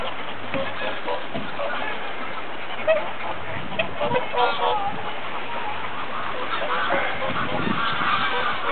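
Birds honk at Tjornin Pond, a busy chorus of goose-like calls and quacks overlapping continuously at moderate distance, with faint background murmur.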